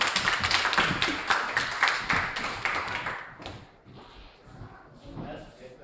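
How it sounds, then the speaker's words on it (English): A class of students claps together in a classroom, loud and fast at first, then thins into scattered, uneven claps with a few voices mixed in. "Give it a clap, guys."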